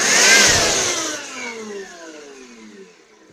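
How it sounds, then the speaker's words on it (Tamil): Electric blower whirring hard while clearing dust from a computer CPU, a loud, close motor whine that spins down and falls in pitch before steadying at a lower hum. "இப்போ ரன் பண்ணுறேன் பாருங்கள்."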